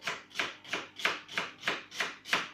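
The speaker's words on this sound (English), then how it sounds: "Trying to cut as fine as possible." Spinach chopped finely with a knife on a board, eight quick, evenly spaced crisp blade strikes in a steady rhythm, close and clear with no talking.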